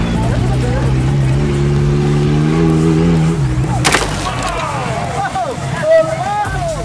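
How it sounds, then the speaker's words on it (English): A 4x4 off-road vehicle at a race revs its engine hard, then crashes with a sudden loud impact midway. Afterward the engine keeps running and a voice talks over it. "we have our first crash right here"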